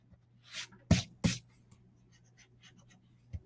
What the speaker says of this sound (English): and I'm only erasing, always moving my hand